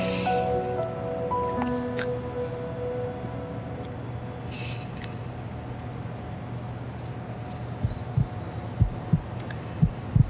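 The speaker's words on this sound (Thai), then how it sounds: "หัวใจเต้นแรงจัง" A heartbeat sound effect from a drama series thumps in a slow, steady rhythm, growing more distinct toward the end over a low hum, after a few faint tones at the start.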